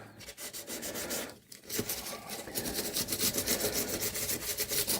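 Sandpaper rubs gently up and down the fretboard of a 1991 Takamine TD 32 acoustic guitar, a close scratchy rasp in quick repeated strokes that briefly pauses before resuming steadily louder.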